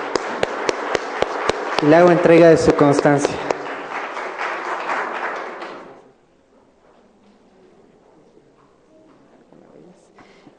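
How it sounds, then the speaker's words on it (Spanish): Audience applause for a lecturer at the close of a talk on the Postclassic Maya world, clapping swelling under a voice, then fading away after about six seconds into a quiet room. "Le damos un aplauso"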